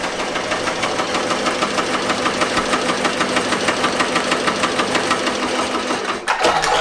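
An embroidery machine stitches a design onto a sweatsuit with a steady, rapid mechanical chatter and pulsing rhythm, close and continuous, ending with a brief clunk as it stops.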